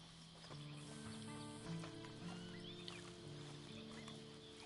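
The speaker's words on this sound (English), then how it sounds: "Then you better get on this horse." Horse hooves clip-clop in the Western video game Red Dead Online, a steady muffled rhythm of hoofbeats under a sustained musical drone, with no voices.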